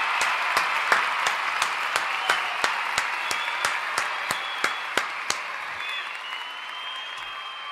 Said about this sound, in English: Another round of applause for my guy, Moise.